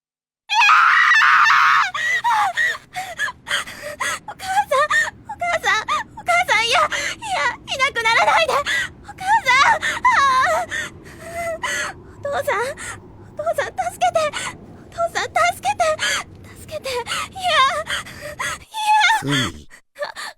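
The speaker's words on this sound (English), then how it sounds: "She screams for help while trembling." A young anime girl screams and sobs for help in distress, with repeated high, wavering cries and gasps over about twenty seconds, trembling and breaking off, with a low steady hum beneath.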